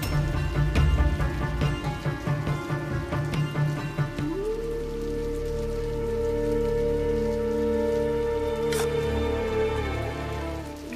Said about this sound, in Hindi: पर रमा, इतनी बारिश में?